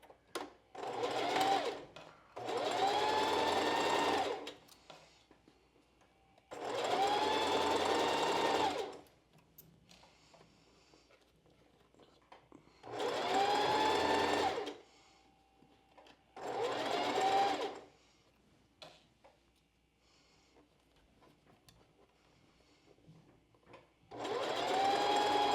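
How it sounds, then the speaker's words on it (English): A sewing machine runs a straight stitch along bra cup seams in five or six loud, whirring bursts of a few seconds each, separated by quiet pauses. "Just sewing a straight stitch"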